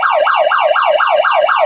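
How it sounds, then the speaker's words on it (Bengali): A GSM security alarm system triggered by movement blares a loud, continuous electronic siren, rising and falling in a steady wail roughly every quarter second, with no voices over it. "মুভমেন্ট করলে যে অ্যালার্ম দিচ্ছে"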